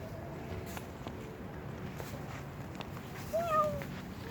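A cat gives a single short meow near the end, clear against a quiet room with faint rustling and soft movement noises throughout.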